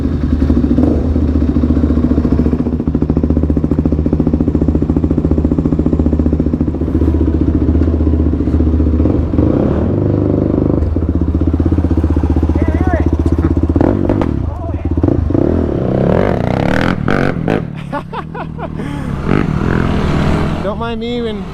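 A Yamaha YFZ450R ATV fitted with a new exhaust, its engine droning loudly and steadily at close range before revving and crackling near the end, with a person speaking over it.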